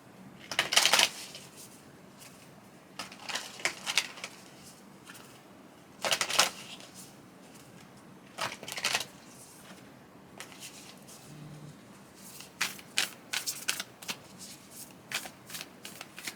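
Tarot cards being shuffled and pulled from the deck, several separate bursts of riffling and slapping cards between quiet pauses, close but fairly soft.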